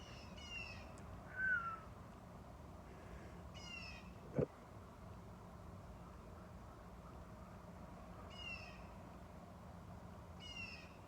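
Distant crows caw a few times at scattered intervals, faint against a steady outdoor hum, with a single sharp knock partway through.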